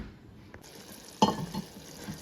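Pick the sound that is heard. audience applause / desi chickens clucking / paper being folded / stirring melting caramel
stirring melting caramel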